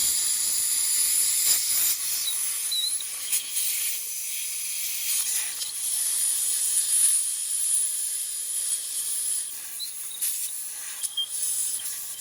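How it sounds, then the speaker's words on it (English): Compressed air blasts steadily over transmission parts to dry them, a loud, close, continuous hiss that surges and dips in short bursts, with no talking. "then I'm going to dry them with some compressed air"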